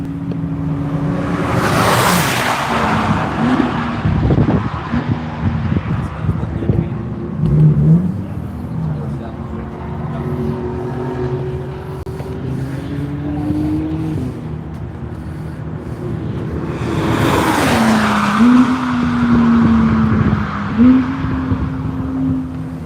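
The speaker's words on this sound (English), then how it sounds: "Here comes Kevin around the final corner to begin lap number 2 of 3 here." A race car at the NCM circuit rounds the final corner during a One Lap of America session. The engine drones steadily throughout and swells loudly twice as the car passes nearby.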